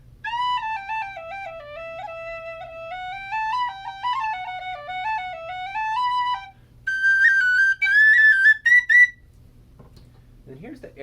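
A Goldfinch standard D tin whistle plays a stepwise melody in two phrases, the second brighter and higher, with clean, close tones and only a faint background hum.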